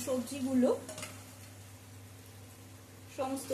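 Mixed winter vegetables and spices being stirred in a pan for navratan paneer, with scraping, clinking strokes of a utensil at the start and again at the end over a low steady hum.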